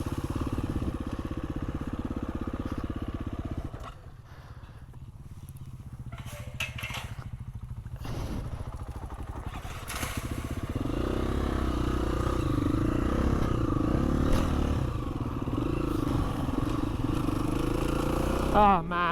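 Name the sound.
dirt bike riding on trail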